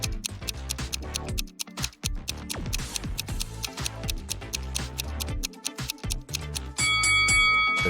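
An alarm clock ticks in a steady, even rhythm of crisp clicks over a musical backing, and a bright sustained tone rings near the end.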